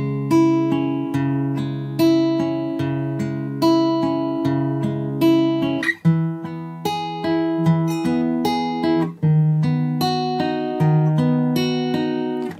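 Guitar in standard tuning playing an intro, a steady repeating pattern of plucked chord notes, close and clear, with no voices over it.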